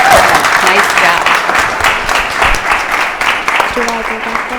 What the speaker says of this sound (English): big round of applause for Adelaide